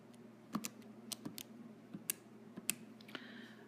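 Numbers are tapped into a calculator as a dozen or so sharp, close plastic key clicks in an uneven rhythm, some in quick pairs, over a low steady hum.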